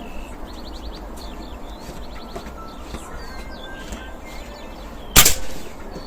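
A single sharp air rifle shot firing a pellet cracks out near the end, set against steady outdoor background noise and chirping birds.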